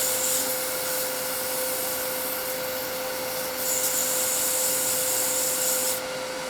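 Sandpaper rubs against a small holly wood pendant Christmas ornament, making a steady, close, continuous abrasive hiss over a constant low hum, with no speech.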